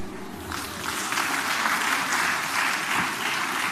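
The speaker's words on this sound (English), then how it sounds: "Clap for yourselves." An audience at a Lagos Business School alumni induction ceremony claps steadily and loudly throughout, a dense sustained round of applause with no talk over it.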